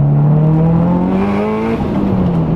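A loud turbocharged Holden VR V6 Commodore ute engine revs steadily through a custom turbo manifold, with a smooth rising then easing tone, close up and continuous, with no talking.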